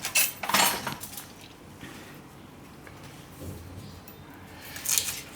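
Knife cutting purple yam (ratalu) into pieces on a board, a few sharp scraping chops at the start and end with quieter handling between, no talk.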